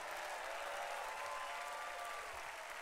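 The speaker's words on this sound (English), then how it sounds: "clap those hands, and shout unto God one more time" A church congregation claps steadily and fairly quietly, an even wash of hand claps with no break.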